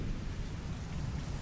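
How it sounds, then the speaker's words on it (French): Steady heavy rain from a thunderstorm roars without a break, with deep low rumbling that suggests thunder underneath, dense and continuous with no voices. "Les orages sont une incroyable manifestation du pouvoir du Créateur."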